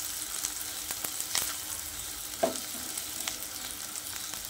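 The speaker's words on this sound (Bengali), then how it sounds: "পেঁয়াজ কুচিটাকে লাল লাল করে ভেজে নেব।" Chopped onions frying in soybean oil in a frying pan, a faint continuous sizzle with occasional soft clicks and one brief knock, quiet and close, no talk.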